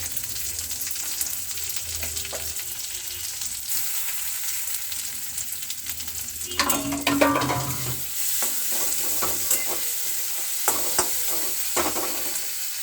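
Tomatoes frying and being stirred in a pan for a Bengali cauliflower curry, a steady close sizzle with scraping spoon strokes that swell into a louder burst of crackling midway, then settle back.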